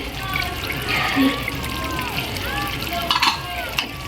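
Masala with gram flour and dried fenugreek leaves fries in oil while being stirred for a kofta curry, a steady close sizzle with wet trickling and scraping, a couple of sharper stirring knocks near the end.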